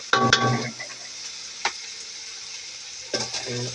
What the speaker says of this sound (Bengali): রাইসটা দিয়ে ভালো করে ভাজবো।